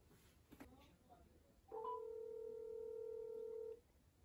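A phone beeps as it is dialed, then a steady ringing tone plays for about two seconds before stopping, quiet and close, with faint talk beforehand.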